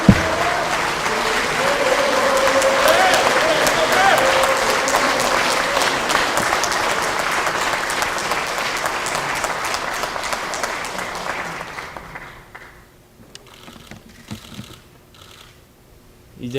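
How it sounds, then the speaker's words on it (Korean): Loud, sustained applause from a political rally audience as a party leader takes the stage, dense clapping for about twelve seconds before fading, then quieter room sounds. "큰 박수 부탁드리겠습니다."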